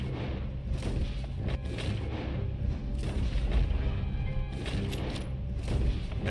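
Gunfire in the video game Red Dead Redemption 2, a dense run of booming shots and heavy thuds rolling through a gunfight, loud and continuous with no pauses.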